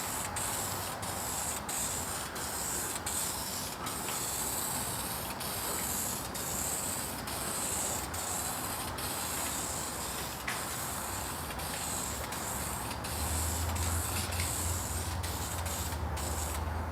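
Duplicolor vinyl and fabric dye sprayed from an aerosol can onto vinyl seats, a steady close hiss broken by brief rhythmic clicks, running without pause for the whole stretch with no talk.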